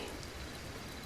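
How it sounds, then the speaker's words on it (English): Steady rain falling on leaves and glass, a dense, even hiss of drops with no breaks, close and soft throughout. "an unending lullaby of rain on leaves, on glass,"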